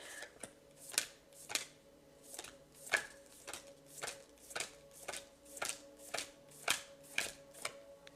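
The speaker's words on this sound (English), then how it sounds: "I have to count out 14 cards now" Tarot or oracle cards counted out one by one, a steady series of about fourteen crisp, close snaps and flicks at a regular rhythm, with no talking.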